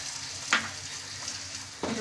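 Spice masala frying in a pan for a Bengali egg curry, with water being stirred in: a steady wet sizzle that carries through, and two short scraping stir strokes stand out. No one speaks.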